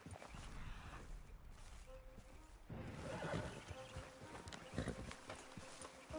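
Horses moving in the Western video game Red Dead, with soft hoof clip-clops and rustling through a steady outdoor ambience, a few sharper thuds near the end.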